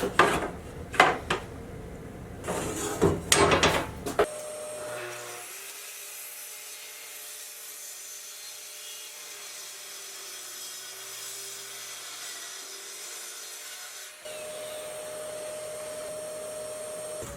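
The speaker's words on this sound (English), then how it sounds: "Using a track saw and a drywall square, I'm going to clean up the ends." A track saw cuts through drywall in a house under renovation. A few knocks and handling sounds come first, then a long, steady motor whine as the blade runs through the board.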